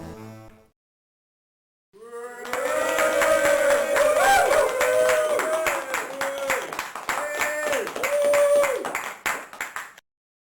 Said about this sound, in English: Now prepare to receive a rapturous applause from all here.